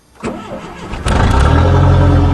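A Dodge Aries turbo race wagon cold-starts: a brief starter crank, then the engine catches and settles into a loud, steady low rumbling idle close by.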